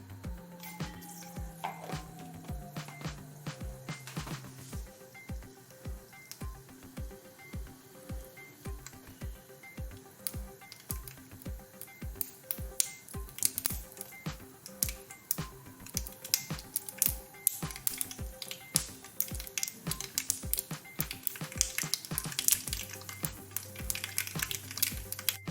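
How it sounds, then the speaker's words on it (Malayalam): Mustard seeds spluttering in hot coconut oil in a pan on the stove, a quiet run of rapid, irregular pops and crackles that grows denser and louder toward the end, heard close with no talk. "നമ്മൾ കടുക് പൊട്ടി വറ്റൽമുളക് ചേർത്ത് കൊടുത്തു"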